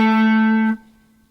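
A single sustained electric guitar note rings out bright and distorted from a blues lick, then stops abruptly with no slide, leaving a faint hum.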